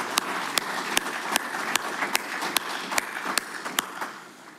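Audience at a Coast Electric annual meeting applauding, a steady roomful of clapping with a few sharp, evenly spaced louder claps standing out, fading slightly at the end.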